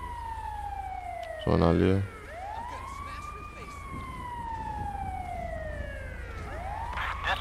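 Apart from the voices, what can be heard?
ambulance siren in video game GTA 5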